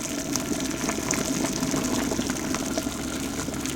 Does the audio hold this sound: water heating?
yes